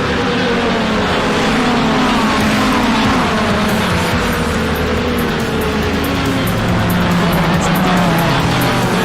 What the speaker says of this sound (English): Cars on track.